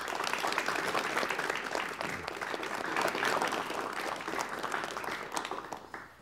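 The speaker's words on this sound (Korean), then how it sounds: "여러분 뜨거운 박수로 환영해 주시면 대단히 고맙겠습니다" A studio audience on a 1988 KBS Korean television talk show bursts into warm, sustained applause: dense, steady clapping from many hands that holds for several seconds before tapering slightly at the end.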